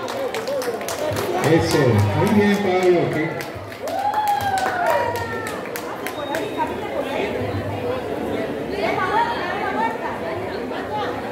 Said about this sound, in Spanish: Ese aplauso, vamos a ver qué pasa.